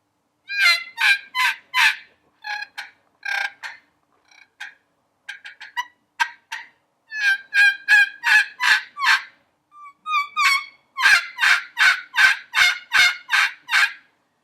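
A hand-operated turkey call imitates a wild turkey with bursts of sharp, raspy yelps and clucks in quick rhythmic runs, some sequences faster and denser, played close and clear with no talking.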